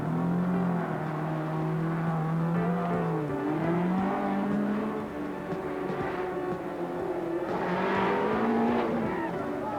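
A 1983 rally car engine, revving hard as it clears, drones continuously near and loud with pitch rising and falling, and a brief surge of roar toward the end.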